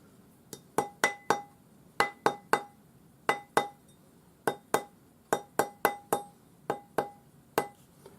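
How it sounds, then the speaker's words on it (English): A rawhide hammer gently taps metal rings on a ring mandrel, giving crisp, ringing clinks in quick bursts of two to four strikes separated by short pauses, close and clear. "So just gently hammer them up."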